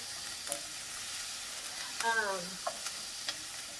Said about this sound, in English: stir my onion